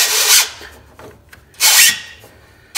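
Filter wrench scraping and gripping a small oil filter on a Z930M zero-turn mower, two short rasping rubs about a second apart with quieter fumbling between, close and loud.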